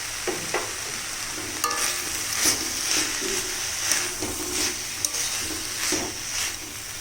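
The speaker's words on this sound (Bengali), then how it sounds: "এইভাবে ভাজা ভাজা করে নিতে হবে একটু নাড়াচাড়া করে ভালোভাবে মেশাতে হবে" Banana flower (mocha) frying in a pan with turmeric and spices, stirred steadily: a continuous close sizzle with repeated scraping strokes of the spoon against the pan.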